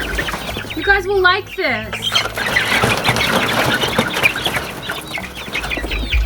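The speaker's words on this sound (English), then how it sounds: "For little baby chicks, they certainly move fast." Baby chicks in a coop chirping and clucking, with high peeps over a busy farmyard background and a voice talking near the start.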